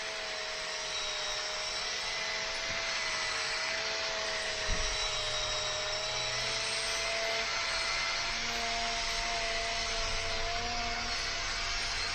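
A power buffer polishes motorcycle paint, spinning with a continuous high-pitched whine that holds steady at close range throughout, with no talk over it.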